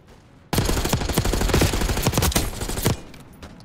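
Rapid, loud gunfire from a shotgun in the video game Black Ops 6, a dense burst of overlapping blasts that starts abruptly and runs for a couple of seconds before fading.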